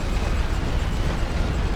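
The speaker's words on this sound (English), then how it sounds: "Let's bombard that section." Artillery bombardment in a WW1 Western Front strategy game, a loud, dense, continuous rumbling blast roar filling the whole moment without distinct separate hits, no talk.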